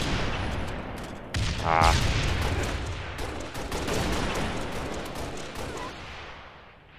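Halo: Reach multiplayer gunfire in an MLG team slayer match, bursts of weapon fire and blasts under excited commentary, with one brief exclamation.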